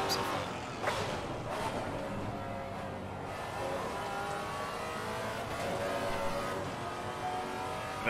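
Maserati MC GT4 race car engine in Assetto Corsa Competizione, a steady loud roar climbing and falling through revs with gear changes and a hint of tire squeal, continuous throughout with no talk.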